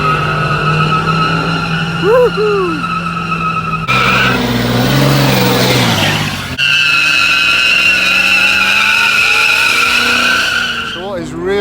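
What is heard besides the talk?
car doing a burnout, tires squealing, at classic car show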